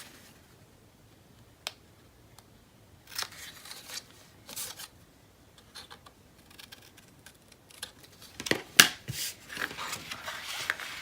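Scissors trim a paper craft piece for a spring farmhouse model, a sparse series of close, crisp snips and clicks separated by quiet pauses, growing busier toward the end with no talking.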